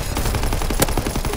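Rapid automatic gunfire from a shooter video game, a fast steady burst of loud, close shots with one sharper crack near the end, no talking.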